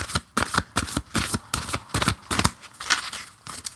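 A deck of cards is shuffled repeatedly at close range, a rhythmic series of crisp riffling bursts, about a dozen quick ruffles in steady succession with no talk.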